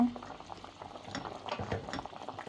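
A pumpkin dessert with orange cooks in a pan, giving a soft, quiet bubbling simmer with light stirring and faint utensil touches, close by and gentle.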